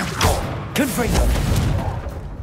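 Confringo spell blast from Hogwarts Legacy: a sharp, booming burst hits early and gives way to a rumbling, crackling fire effect, with a voice talking over the game sounds.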